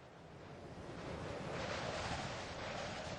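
Strong wind blows near Alcatraz by the water, a loud, steady rushing roar buffeting the microphone and swelling slightly over a few seconds.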